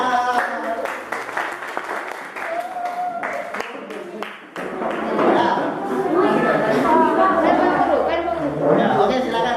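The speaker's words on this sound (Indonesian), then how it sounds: "Oke, tepuk tangan." Applause breaks out in a classroom, a dense patter of many hands clapping that swells and keeps going, with students chattering and voices talking over it throughout.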